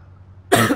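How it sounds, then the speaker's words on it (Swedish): A single sharp cough bursts out close and loud after a quiet stretch, with a short rough tail. "Hör dig hosta."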